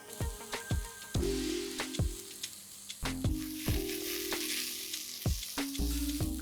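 Vegetable soup ingredients with pumpkin and garam masala are stirred in a pressure cooker, with repeated scraping and clattering strokes of a spoon against the metal pot over a soft sizzle, close and without talk.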